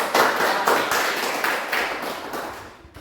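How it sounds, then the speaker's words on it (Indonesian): A classroom of students applauds a group, brisk rhythmic clapping close by that tapers off toward the end. "kita tepuk tangan untuk kelompok."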